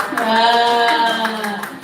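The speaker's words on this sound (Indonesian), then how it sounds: "Tepuk tangan." A group in an Indonesian teachers' learning-community session claps hands in a short rhythmic pattern, the sharp claps mixed with voices chanting along.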